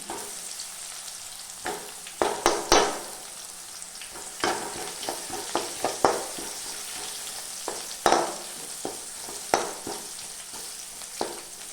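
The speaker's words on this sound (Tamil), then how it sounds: "பூண்டு நல்லா வதங்கிடுச்சு." Crushed garlic cloves sautéing in a pan, a soft steady sizzle broken by sharp clicks and scrapes of a spatula stirring, fairly quiet and close, with no voices.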